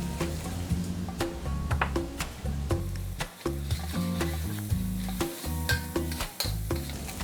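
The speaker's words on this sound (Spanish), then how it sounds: "Ahora sofreiremos un poquito más" Sofrito with paprika sautéing in a pan for a spider crab and prawn stew: a steady sizzle with stirring clatter, partly masked by rhythmic background music.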